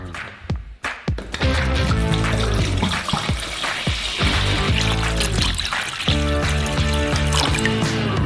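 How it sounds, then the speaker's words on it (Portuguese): Water poured into a container during food preparation, a continuous splashing and gurgling flow with shifting resonant tones as the vessel fills, close by, preceded by brief handling clatter. "Despejamos água em um recipiente."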